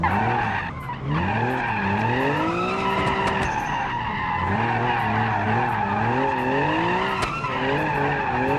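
Simulated car in the Automation driving game drifting hard through a tight corner, tyres squealing continuously over a sweeping, rising and falling engine drone at full throttle, loud and sustained throughout.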